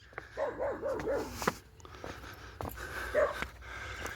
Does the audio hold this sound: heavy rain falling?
no